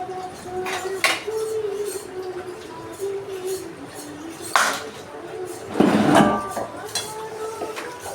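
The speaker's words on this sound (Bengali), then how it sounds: "দুটো কড়াই মাজা হয়ে গেল" Two karahi woks being scrubbed by hand, with intermittent metallic clinks and scraping of utensils at close range, a louder rattling burst near the end, and a low background hum throughout.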